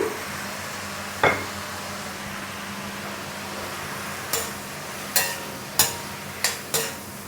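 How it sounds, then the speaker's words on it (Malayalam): Chicken, egg and noodles stirred together in a hot pan: a steady low sizzle broken by a handful of sharp utensil taps and scrapes against the pan, mostly in the second half. "നന്നായിട്ടൊന്ന് ഇളക്കി കൊടുക്കുക"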